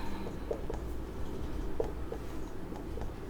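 Marker or chalk strokes scratch across a board during a math lesson, faint intermittent taps and scrapes over a steady background hum, no speech.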